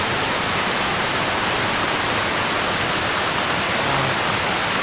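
A Patagonian glacier meltwater stream rushes loud and very close, a dense, unbroken roar of flowing water at constant strength with no talk.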